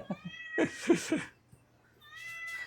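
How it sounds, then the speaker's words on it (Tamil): A cat meows several times up close, a short cry followed by a cluster of longer, wavering meows and then another drawn-out call after a brief pause, in a quiet home kitchen. "இது குட்டி பூனையா பெரிய பூனையா?"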